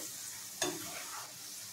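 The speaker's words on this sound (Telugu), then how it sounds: "ఇవి కూడా వేగిపోయి తీసి పక్క పెట్టుకుందాం" Onion and cashew pakodi frying in hot oil, a steady soft sizzle with a brief stir or clink midway, close but faint, no voices.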